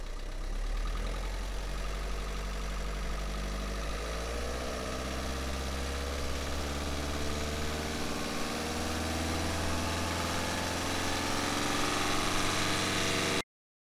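Synthesized vehicle engine noise generated in real time follows a speed ramp, a continuous droning hum with harmonics that slowly rise and shift in pitch before cutting off abruptly near the end, with no talk.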